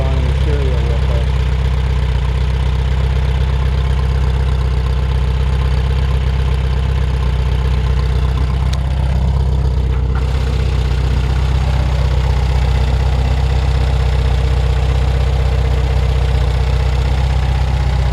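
A 1973 Volkswagen Thing's engine idles nearby, a loud, steady low rumble with a faint rhythmic knock that persists unchanged for eighteen seconds.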